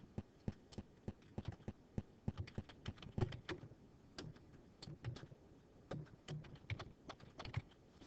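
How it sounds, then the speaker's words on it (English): Fingers typing on a computer keyboard, a fairly quiet, close series of irregular key clicks in quick bursts, heard alone over a faint background hum. "I am going to type in my title text"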